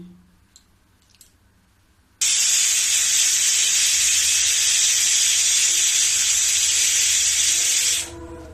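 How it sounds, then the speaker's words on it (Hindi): A pressure cooker whistle bursts on loudly after a couple of quiet seconds, on a gas stove at high flame, a steady high-pitched steaming hiss that holds for about six seconds, then cuts off. "देखो, 1 सीटी लग गई है।"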